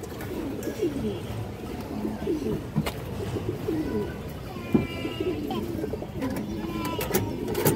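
Domestic pigeons coo continuously in a farm pen, with several overlapping low, rolling calls at close range. The birds are among high-quality fancy breeds such as Bagha, Silver, Shafchila, Jabra and Highflyer.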